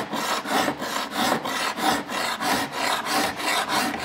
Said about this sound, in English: I'm kind of filing on a little bit of a diagonal here.